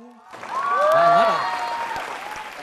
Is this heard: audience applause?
yes